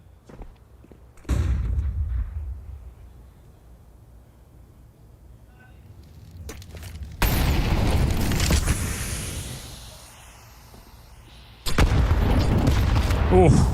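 Grenades explode in a Counter-Strike esports match, with three heavy booms spread across the stretch, each followed by a long rumbling decay between quieter gaps.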